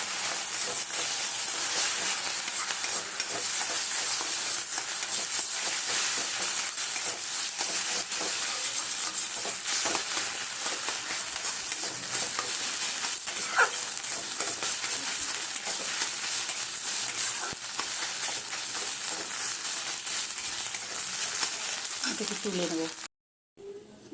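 Egg frying in a pan as the first step of chow mein, a steady broad hiss and sizzle running throughout at moderate level, with faint background noises and a brief clatter near the end before it cuts off.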